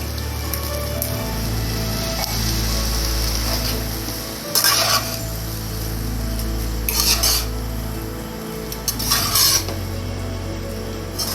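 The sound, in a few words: stirring tomato rice in a pan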